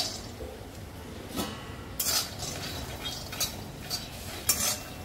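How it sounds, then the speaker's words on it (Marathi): Peanuts dry-roasting in a kadhai while being stirred, heard as faint scraping and a few sharp clinks of a spoon against the metal pan over a quiet background. "शेंगदाणे छान असे भाजून घेते"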